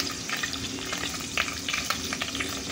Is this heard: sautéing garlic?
yes